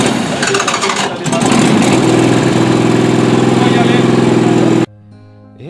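A vehicle engine turns over and settles into a steady, loud idle close by, cutting off abruptly near the end, with people talking faintly.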